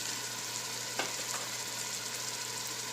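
Spices with garam masala and green chillies frying in oil for aloo pulao, a steady broadband sizzle throughout with a brief stir or clink near the middle, no talking.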